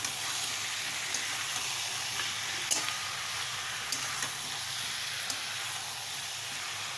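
Chicken with ground spice paste frying in a pan, a steady, even sizzle with a few faint clicks of a utensil scattered through it and no voices.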